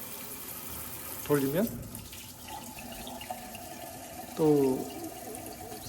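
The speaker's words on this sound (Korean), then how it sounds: "폭포 수전 요즘 많이 쓰십니다. 물이 이렇게 나오죠?" Water pours from a waterfall-style kitchen faucet over a square sink bowl in a newly fitted interior, a steady broad wash with a louder surge near the end, while someone talks over it.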